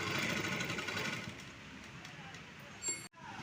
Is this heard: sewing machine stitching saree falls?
yes